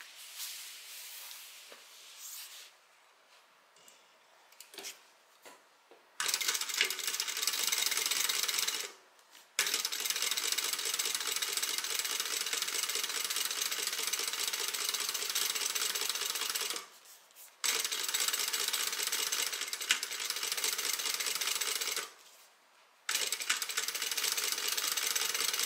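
A sewing machine top stitches a tote bag in several long, steady bursts of rapid whirring, broken by short pauses and a few soft clicks and handling sounds near the start.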